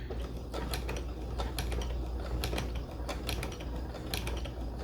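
A sewing machine stitches fabric while making a romper, running forward briefly and then back stitching; a steady low motor hum carries continuous mechanical clicking and ticking, close and fairly quiet, with no talk.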